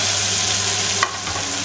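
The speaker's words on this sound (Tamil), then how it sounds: "இப்போ இதை நல்லா வதக்கிக்கலாம்." A steady sizzle of chili paste and onion frying in a pan for pepper chicken gravy, close up, with a brief clink of stirring near the middle.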